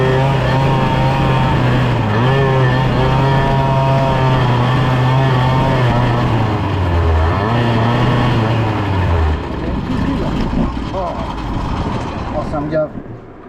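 Airsal Nitro 50 moped engine with a PHBG 20 carburetor running hard and close, a loud buzzing two-stroke drone whose pitch wavers as the carburetor intake is partly blocked, then dropping and fading toward the end.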